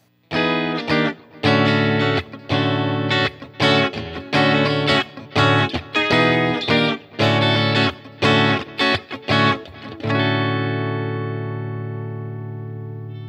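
A Squier Paranormal Offset Telecaster electric guitar on its bridge pickup plays a loud, bright riff of rapid strummed and picked chords, then rings out on a sustained chord that slowly fades.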